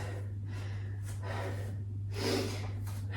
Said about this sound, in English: Nice noisy exhales